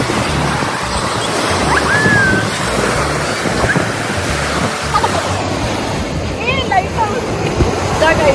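Sea waves roll and wash onto Pondicherry's beach with a steady, loud rush of surf and wind, continuous throughout, with faint distant voices underneath.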